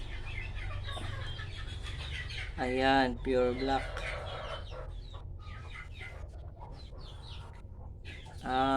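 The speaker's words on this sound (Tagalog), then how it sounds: "andito naman yung isa nating inahing manok" A laying hen clucks in short throaty bursts, rising and falling close by, while a person speaks briefly over a low steady hum.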